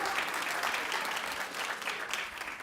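Steady crowd clapping fills the room, a thick, even patter of many hands that holds at a consistent level throughout, with no voices on top.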